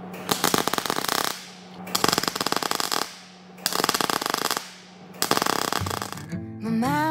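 Tack welds laid on a cast iron headlight bar, four loud bursts of crackling, buzzing arc about a second each, separated by short pauses, with a brief tonal whine at the end.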